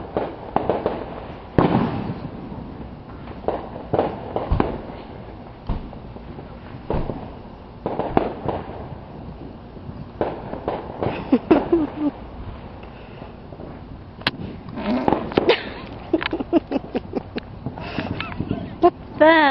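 Fourth of July fireworks burst nearby in a string of sharp bangs and crackles, irregularly spaced, with people chattering between the explosions.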